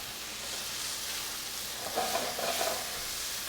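Cherry tomatoes and garlic sizzle steadily in a hot pan for a Balinese chicken curry, a soft continuous frying hiss with a brief louder crackle midway.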